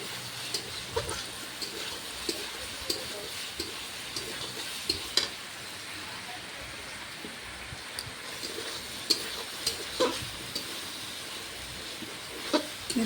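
A spoon scrapes rhythmically around a pan as curry fries with a quiet, steady sizzle underneath.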